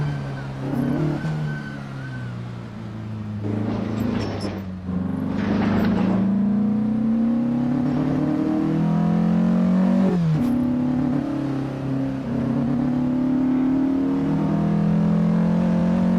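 A race car lapping the Pyynikki track in Tampere, Finland in Assetto Corsa, its engine droning and rising through gears with revving shifts, steady and close, alongside occasional talk.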